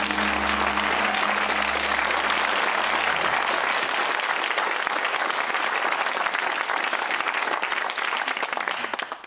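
Studio audience applauding on the University Challenge quiz show, steady dense clapping that carries on at full strength for the whole stretch, tapering just at the end, with a low tonal hum under the start.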